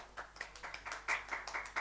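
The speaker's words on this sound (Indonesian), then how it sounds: "Tepuk tangan untuk Ica" Small group clapping for a student in a classroom-style session, a short patter of separate hand claps with uneven rhythm at moderate volume, no voices over it.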